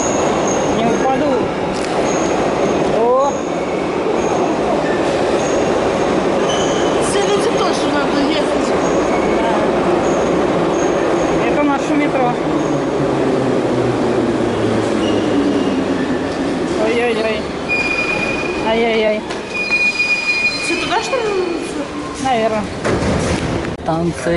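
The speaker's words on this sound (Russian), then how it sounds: "А теперь поезд идет обратно." A Samara metro train runs through the underground near Alabinskaya station, its loud steady rumble carrying sharp wheel squeals, with people talking over the noise throughout.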